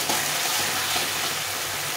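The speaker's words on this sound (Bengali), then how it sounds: "মশলাটাকে ভালো করে কষিয়ে নিতে হবে যখন তেল না ছাড়ে" Masala spice paste for a katla fish curry fries in plenty of oil, giving a steady, dense, close sizzle with no gaps and no voices.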